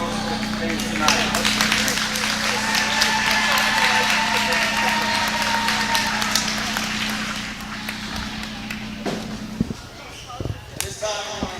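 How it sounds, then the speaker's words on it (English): Big indoor crowd applauding the girls' volleyball team at a high school district championship match, steady dense clapping that fills the space and slowly thins toward the end, with cheers and a voice over it. "Let's give one more round of applause for the girls' team tonight."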